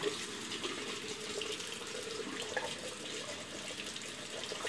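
A hot-water tap runs steadily into a sink, a continuous close hiss of flowing water with no speech over it.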